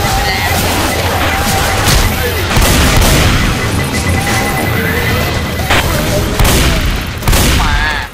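Auto shotgun blasts in the Left 4 Dead 2 video game, loud and dense rapid booms with crashing impacts over chaotic game noise, a voice talking now and then.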